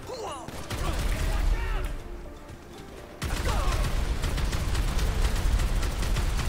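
Gunfire in GTA 5: bursts of rapid game shots crackle over a busy, noisy background, pause briefly mid-clip, then resume densely, with no voices over them.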